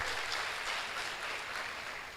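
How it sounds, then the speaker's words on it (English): A crowd at a young professionals' colloquium in Katsina State applauds steadily, a dense, even wash of clapping that holds at a moderate level throughout without pause. "So I want you to give him a very loud round of applause"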